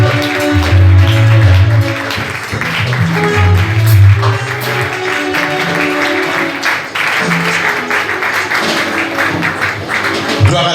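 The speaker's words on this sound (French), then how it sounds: "on acclame le Seigneur très fort" A Sunday church congregation claps and cheers loudly for about ten seconds, dense rhythmic applause with thumping beats and voices rising throughout, close and full.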